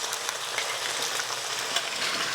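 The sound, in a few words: protein pancakes frying in sausage grease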